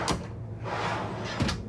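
A push-to-release full-extension pantry drawer in a 2023 Newmar Super Star 3727 motorhome sliding open with a soft rolling rumble, framed by light clicks and knocks at the start and end.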